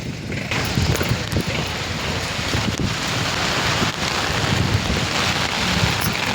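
Rain falling outside Sigandur temple on a trip: a dense, steady wash of rainfall with buffeting wind noise, fairly loud and continuous, no voices.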